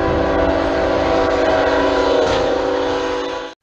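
A nearby train blasts its horn in one loud, sustained, steady tone lasting several seconds over rumbling rail noise, then cuts off abruptly.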